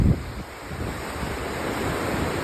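Ocean waves surge in a continuous broad wash of surf, loud and close, mixed with gusty wind noise on the microphone and no voices.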